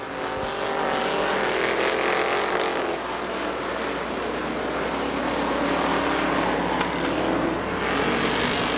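Street stock race cars roar around Butler Motor Speedway in a close pack, a loud continuous engine drone that swells and fades as the field passes, with no talking.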